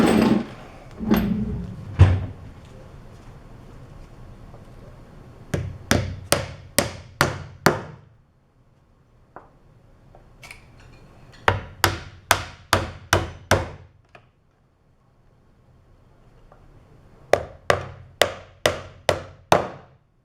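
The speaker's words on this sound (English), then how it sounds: "nail it in place with about 8 nails" Nails hammered into a wooden trebuchet frame: three close bursts of five or six sharp, evenly spaced blows each, separated by quiet pauses.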